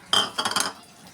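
A metal spoon clinks against a cooking pot in a few quick, close taps and scrapes as fenugreek is stirred into a carrot and meat curry (gajar methi gosht).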